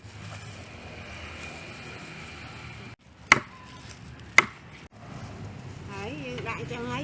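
Two sharp, close chops ring out about a second apart as a knife splits fish being prepared for dried fish, amid quiet background and some talking.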